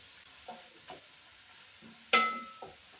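Spices are sautéed in oil for a papdi (flat bean) vegetable dish, with faint frying under a few quiet spoon scrapes and one sharp metallic clink near the end.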